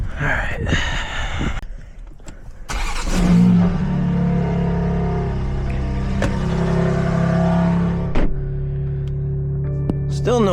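Exhaust drone from a tuned BMW G80 M3 with its exhaust valves closed, a steady low rumble that swells into a louder sustained note near the middle and carries on to the end, with brief breathy sounds early on.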